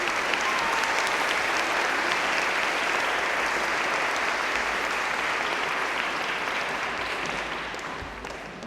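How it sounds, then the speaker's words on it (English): An audience applauds Bev Pollack inside St Andrew's Cathedral at a choral showcase concert, a sustained dense wash of clapping that stays steady and loud before tapering slightly at the end, with no voices over it. "I think we need to give her a round of applause"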